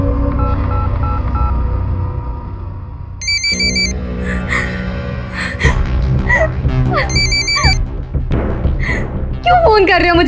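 Telephone ringtone from repeated incoming calls, heard as short bursts of synthetic chiming tones several times over a dramatic music bed, with speech around it.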